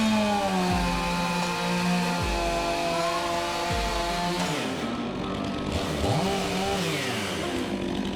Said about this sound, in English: I can see the chainsaw's blade much easier when cutting